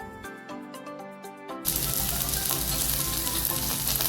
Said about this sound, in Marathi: आता हे सगळे प्रॉन्स मी पलटी करून घेते